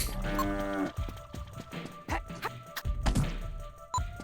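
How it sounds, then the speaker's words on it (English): Cow-like moos come from creatures in the game Glover, one long low moo at the start followed by shorter grunting calls and scattered thumps and hits. "Why are they making cow noises?"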